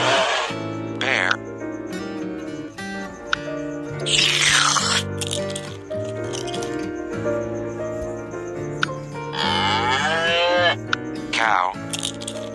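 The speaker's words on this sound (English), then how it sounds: "Cow." A cow mooing loudly several times against a musical backing in a children's animal-sounds lesson, with drawn-out, tonal calls up close.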